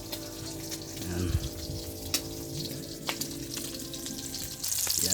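Leftover paksiw fish, cooked in vinegar, frying in a pan in a home kitchen, giving a steady crackling sizzle with a few sharper pops throughout.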